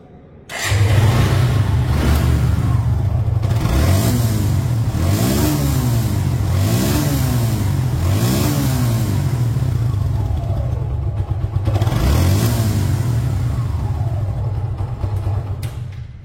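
Second-hand Suzuki Gixer SF motorcycle in showroom condition, its engine idling close by and blipped in a series of quick throttle revs, then settling back to a steady idle.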